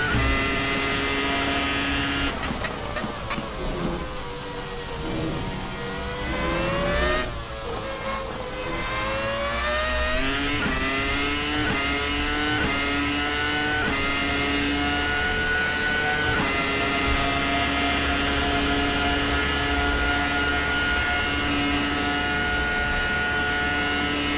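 A race car engine at Imola drones loudly and continuously with rising and falling harmonic pitch as the throttle is worked, a steady in-car engine roar with no speech.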